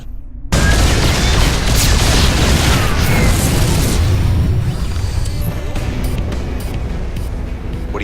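StarCraft 2 battlecruisers open fire amid explosions, a loud dense barrage that bursts in abruptly after a brief quiet and keeps rumbling and popping throughout.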